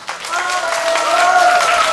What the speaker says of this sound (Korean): 진짜 박수 한번 보내주세요